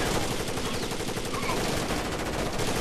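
Dense, continuous rapid gunfire in Rainbow Six Vegas 2, a loud unbroken clatter of automatic rounds filling the whole short stretch.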